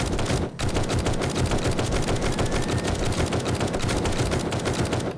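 In 7 Days To Die, a gun fitted with an extended magazine fires in a long, dense automatic stream of loud, close shots, broken by one brief pause near the start before the fire runs on unbroken.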